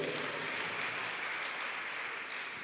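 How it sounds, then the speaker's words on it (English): Steady, dense applause from a large summit audience fills the whole stretch at an even level, with no individual claps standing out. "Clap for yourselves."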